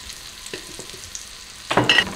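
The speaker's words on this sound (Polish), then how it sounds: "i mieszamy całość. Dosłownie chwilkę. To ma się dosłownie chwilkę podsmażyć." Stirring in a hot pan while ingredients for crispy Indian-inspired garlic bread fry, soft scrapes followed by a louder burst of sizzling near the end.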